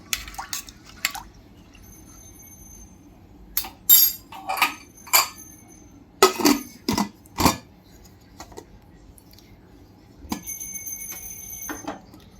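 White peas being mixed with salt and turmeric in a steel vessel, heard as a few separate clinking, scraping spoon strokes with quiet gaps, close and fairly loud, no talking.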